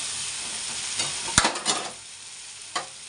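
Water is poured into a sizzling fish curry with potatoes in a small kadai. The sizzle jumps into a sudden hissing burst and a few crackling flare-ups, then settles, with a final short spurt.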